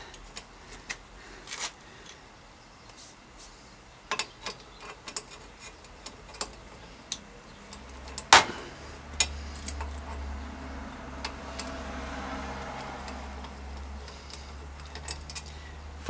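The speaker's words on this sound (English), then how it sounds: "So bolt comes off first." The crank bolt on a 1994 Claud Butler mountain bike being loosened with a 14 mm tool, giving scattered sharp metallic ticks and clicks with one louder clank, up close in a quiet workshop.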